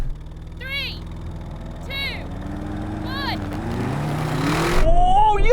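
An Audi RS7, BMW M8 and Mercedes-AMG GT 63 S sit ready for a drag race, engines idling with a low rumble while voices speak over them, then the revs climb into a rising roar toward the end.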